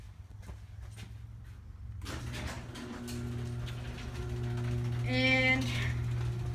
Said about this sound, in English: First, we'll shut that door.